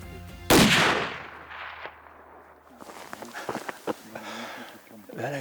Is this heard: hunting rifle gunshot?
yes